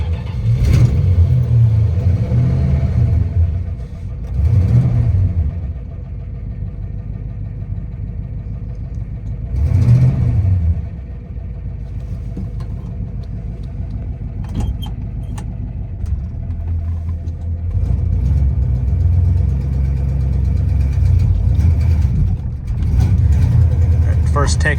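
A 1965 Plymouth Belvedere II with a worn carburetor accelerator pump idles and revs as it pulls away, loud engine surges rising and falling several times while someone talks over it.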